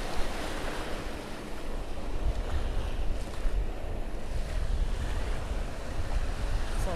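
Ocean surf washes steadily onto the beach at Palladium Bavaro in Punta Cana, a constant broadband roar mixed with wind buffeting the microphone, no voices.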